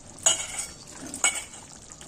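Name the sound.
frying masala curry paste on low flame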